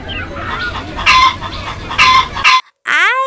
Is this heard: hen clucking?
yes